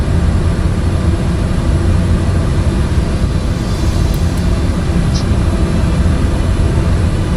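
A fixed-wing aircraft's engines roar steadily in Microsoft Flight Simulator as it takes off from runway 19 on a VFR departure in Mozambique, producing a loud, continuous low-heavy drone that holds throughout with no speech.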